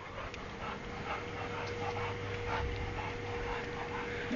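A red nose pitbull pants softly and steadily with faint whimpers against a low background hum, quiet and close, no one speaking.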